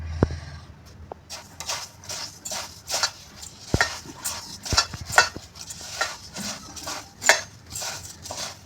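A spoon stirs sesame and fennel seeds with lemon juice, salt and turmeric, making repeated clinking and scraping strokes against the dish at close range, steady and uneven in rhythm, with no talking.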